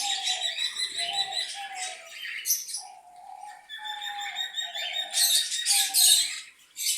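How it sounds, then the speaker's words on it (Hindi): Australian parrots chirp and tweet in a busy, continuous chatter, with layered bright calls and repeated short notes close by, no talking. "ऑस्ट्रेलियन तोते बेसिकली बहुत शैतान होते और किसी को सुकून से जीने नहीं देते।"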